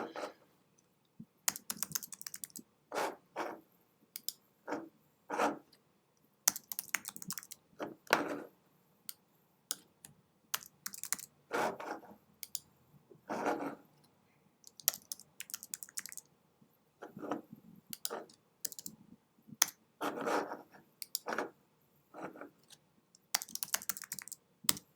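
Someone types on a computer keyboard in quick irregular bursts of clicking keystrokes, close and clear, with short pauses between runs and no talking.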